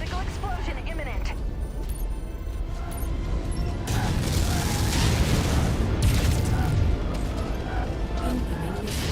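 A mech blowing up in MechWarrior 5: Mercenaries, heavy booming blasts and rumbling crashes amid ongoing battle noise, with a synthetic voice talking over the combat.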